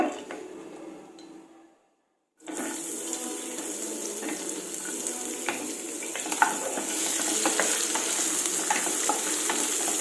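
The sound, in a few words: onions frying in a pan on medium flame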